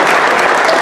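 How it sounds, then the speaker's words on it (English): Dinner guests at a boys varsity team banquet give the school administration a steady, dense round of applause, close and full, with no talk over it. "they also deserve a thank you and a round of applause"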